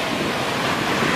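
Ocean surf at Newport Beach, a steady broadband wash of breaking waves with some wind rumble, loud and close, with no voices.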